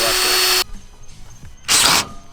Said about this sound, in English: have to be super meticulous with drilling that hole